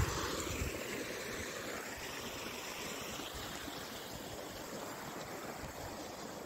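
Water from the Necklace waterfall at Pahine near Nashik rushes steadily through a hillside stream beside rice paddies, giving a continuous broadband roar with no pauses or voices.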